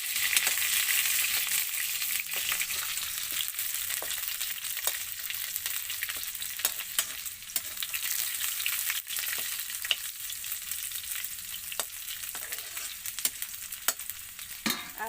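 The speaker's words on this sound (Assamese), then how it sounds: "ৰঙাকৈ অলপ ভাজি যাব লাগিব।" Whole spices such as panch phoron frying in oil in a pan, a steady close hiss and sizzle with occasional crackles and stirring clicks, continuous throughout with no talking.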